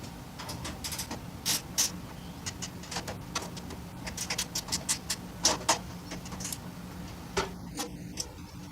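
A socket wrench ratchets as bolts are tightened on a Harbor Freight five-drawer tool cart, giving bursts of quick metallic clicks in uneven runs with short pauses between them, close and fairly clear.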